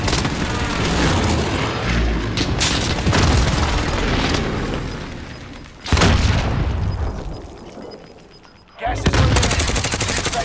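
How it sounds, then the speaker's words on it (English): Precision airstrike explosions in Call of Duty: Modern Warfare: heavy booms and rolling gunfire, with loud blasts near 2.5, 6 and 9 seconds over a constant battle din and occasional voices. "Enemy precision airstrikes."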